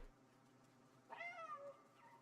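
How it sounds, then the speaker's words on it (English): A cat in the video game Stray meows once, a clear rising-and-falling call over a low game background hum, fairly close and alone without talk. "Wait, why are you meowing?"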